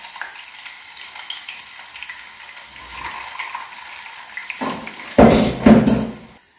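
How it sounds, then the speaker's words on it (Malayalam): Chopped shallots dropping into hot oil with popped mustard seeds for a Kerala-style mutton soup tempering. A quiet low crackle builds into a sudden burst of loud sizzling and spluttering near the end. "അതിലേക്ക് ഞാൻ കൊച്ചുള്ളി അരിഞ്ഞത് ഇട്ട് കൊടുക്കുകയാണ്"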